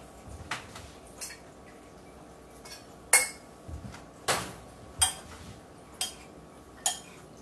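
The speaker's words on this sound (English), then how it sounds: "Here we're just going to stir this up." A spoon stirs simple syrup in a dish, giving sharp, separate clinks against the side at an uneven pace, about one a second, close and clear over a quiet room.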